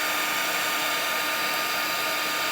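A heat gun blows steadily and loudly throughout, its broad whooshing hiss unbroken as it warms a figure's leg to bend the knee; no one speaks over it.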